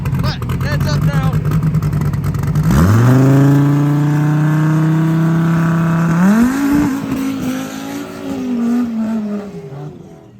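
An intercooled drag race car running on C16 fuel roars loudly at close range, its engine note climbing steeply through each gear as it accelerates hard, with voices talking underneath.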